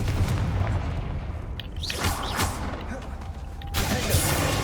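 A Confringo spell blast from Hogwarts Legacy booms through loud game combat, a dull heavy burst among other rumbling impacts, with a voice speaking briefly over the noise.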